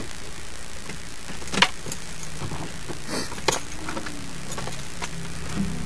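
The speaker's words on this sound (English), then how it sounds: "Okay, so let's start the engine." A Mercedes-Benz W124 260E sedan's engine settles into a steady, even idle after starting, with a constant low hum and a few sharp clicks and taps close by.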